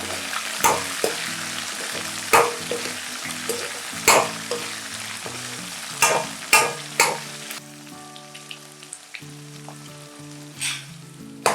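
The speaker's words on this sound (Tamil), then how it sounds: "அப்புறம் கேப்சிகமோட கல்லுப்பு சேர்க்குறேன். சேர்த்துட்டு இதை நல்லா வதக்கணும்." Capsicum, curry leaves and rock salt sizzle and fry in a pan for a quick tamarind variety rice, with steady crackling broken by sharp clanks of a spoon stirring against the metal.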